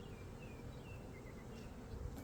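Honeybees hum steadily around a crowded hive, a continuous low swarm drone with a few higher individual buzzes passing close by.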